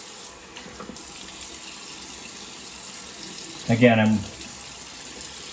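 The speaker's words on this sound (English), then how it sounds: "wetting the face with nice warm water" Warm water splashes briefly onto a face being wetted before a shave, heard as a short close splash near the end over quiet room tone, with a voice speaking.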